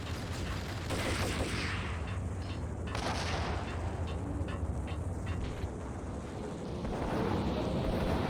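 Gunfire in the Max Payne video game, a dense sustained barrage of shots and booms running continuously through the scene at steady loudness, with no talking.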